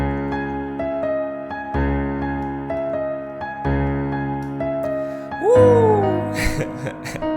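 A simple, sparse piano-style melody for a hard trap beat, repeating a short phrase in even bars over deep low bass hits, then ending on a gliding, bending synth swell.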